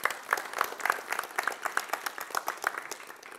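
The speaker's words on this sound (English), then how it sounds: "let's start again with a bit of an applause" A small audience at a talk in a casual drink-and-discussion event claps briefly, a modest patter of many hands with a few louder claps standing out, fairly even and fading at the end.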